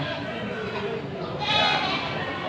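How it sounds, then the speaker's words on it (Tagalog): Goats bleat at a roadside livestock market on a rainy day, with one clear bleat rising midway over a steady background, while someone talks throughout. "Yung po mga alagaing kambing o mga pambreed, yung po doon sa karsada nila pinaparada."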